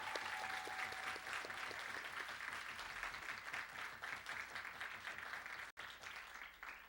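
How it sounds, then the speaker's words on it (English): Steady applause from an audience at a 20th anniversary celebration, dense and continuous throughout with no voices over it, dipping briefly near the end. "Please give us a round of applause to all of those who are on the sisters side."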